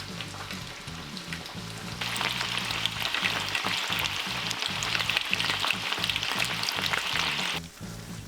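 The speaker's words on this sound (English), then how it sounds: "I cook the katsu for about 4 minutes on each side" Pork katsu cutlets fry in hot oil with a steady, dense crackling sizzle that swells louder partway through and then eases near the end, with no voices.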